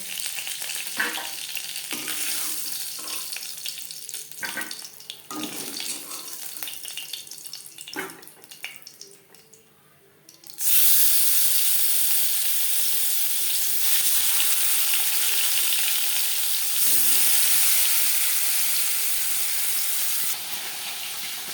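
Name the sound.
frying sea fish (bhola) in oil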